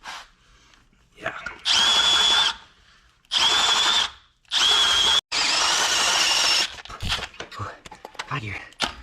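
A Milwaukee M12 cordless drill whines loudly and close in four separate bursts of a few seconds each while work is done on a Jeep XJ four-link. Someone speaks quietly in the gaps between bursts.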